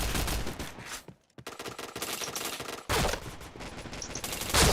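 Video game gunfire rattles in loud automatic bursts, stopping briefly and then resuming in dense rapid volleys, with no voices.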